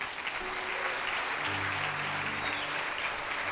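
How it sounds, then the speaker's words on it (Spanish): A church congregation claps together in praise, a sustained, even roar of many hands across the space, with a low held musical tone sounding underneath. "Dele un aplauso al Rey."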